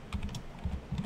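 Computer keyboard typing while writing code: a few quick clusters of soft, muted key clicks, close and fairly quiet, with no speech.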